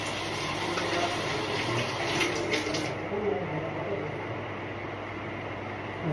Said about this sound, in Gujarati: તો હાથ પગ ધોઈ નાખીએ.